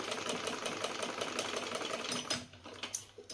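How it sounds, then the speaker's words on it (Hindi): Sewing machine running in a steady rapid rhythm as it stitches a simple home-use cloth bag, close and loud, then stopping briefly and restarting in short bursts near the end. "ये इधर से भी सिलाई किया"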